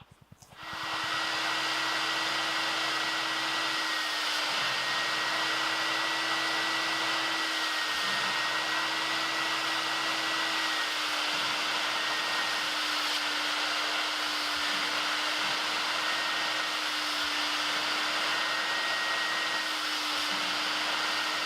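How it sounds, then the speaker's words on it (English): A carpet extractor runs over a fabric car floor mat with tap water, giving a loud, steady motor whine and suction roar that starts abruptly and holds for the whole stretch. "I just got done going over the floor mat with the extractor"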